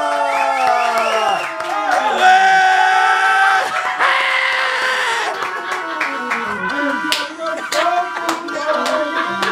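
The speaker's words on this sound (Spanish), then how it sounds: "un fuerte aplauso a Kung Panda." Children and adults at a birthday party clap and cheer for a Kung Fu Panda costumed performer, loud and close, with shrieks and squealing voices over the applause and a tonal squeaky sound running through it.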